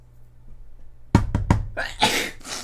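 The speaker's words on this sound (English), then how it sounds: "I am sneezing like a motherfucker" A person sneezes in a short, sharp burst of several quick blasts after a second of low background hum during a nighttime street protest, close and fairly loud.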